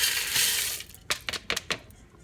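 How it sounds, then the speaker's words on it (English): Rinsed dry pinto beans tumble into a crock pot, a short burst of hard rattling clatter following a steady hiss, with several distinct close pours in quick succession. "Now you want to take the rinsed pinto beans and put them in the crock pot."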